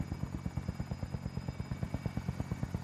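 In the video game Warzone, a helicopter's rotor thumps in a fast, even, steady rhythm, fairly close, with no talking over it.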